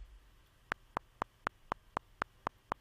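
GarageBand software metronome clicking in steady eighth-note triplets, ten sharp evenly spaced ticks over a faint hum, alone with no voices.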